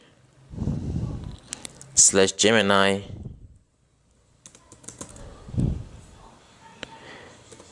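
Someone types an npm install command on a Windows 11 computer keyboard, with light, quick key clicks, some heard alongside a person talking.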